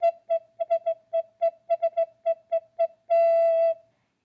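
Gentle breath through a recorder mouthpiece sealed against the palm makes a soft, pure hooting tone, repeated in a dozen short tongued puffs and then sustained for a moment, close and alone.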